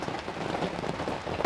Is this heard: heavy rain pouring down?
yes